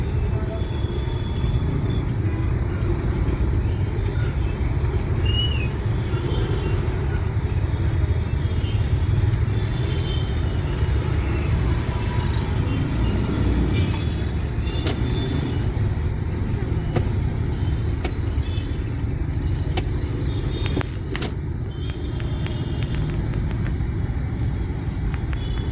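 A car in first gear creeps slowly through bumper-to-bumper city traffic, a continuous low engine and road rumble heard from inside the cabin with occasional surrounding vehicle noise and faint voices.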